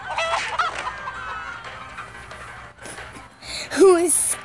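Chickens cluck and squawk in the video game Minecraft Story Mode, with short fowl calls mixed into game sound effects and music. Voices talk over them.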